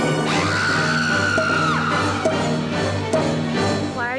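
A drawn-out scream rings out in a film, loud and sustained, over dense music and other sound effects, with a few sharp hits following.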